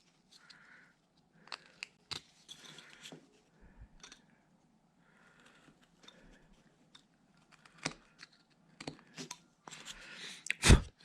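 A carving knife cuts small corners from a wooden Christmas tree ornament, giving faint, sparse clicks and short scraping crunches at irregular intervals in an otherwise quiet space.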